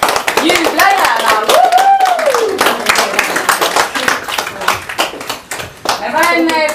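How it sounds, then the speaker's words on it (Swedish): An audience claps hands in applause at a lively group event, the clapping steady and close while voices shout and talk over it throughout. "tycker jag att vi klappar händerna. Applåd!"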